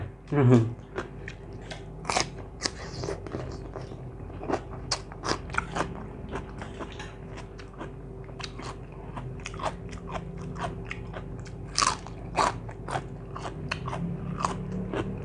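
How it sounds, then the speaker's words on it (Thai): Crispy snack being crunched while eating alongside a spicy Thai rice-noodle salad with crispy shrimp, sharp close bites and chewing crackles scattered throughout, with talk in the background. "กรอบดีเนาะขนม"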